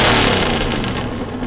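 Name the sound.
car engine revving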